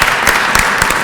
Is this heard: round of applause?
yes